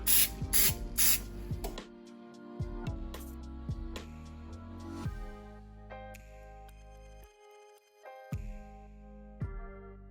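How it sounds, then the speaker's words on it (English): Pan baking spray sprayed into a muffin tin in a home kitchen, several sharp hissing bursts in quick succession, then quieter clicks and mechanical rattles with a few more short sprays. "I'm going to start by spraying with pan baking spray."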